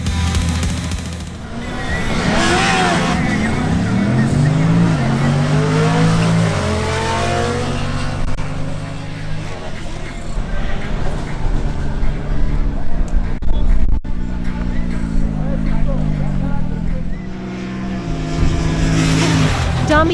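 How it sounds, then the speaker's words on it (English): Honda CB1000R and Honda X-ADV 750 motorcycles at a drag race, engines revving loud and steady as the bikes launch and accelerate away, with a commentator's voice running over much of it. "Next, Damian Camacho on his Honda CB1000R faces off against Julian Gomez on his Honda X-ADV 750."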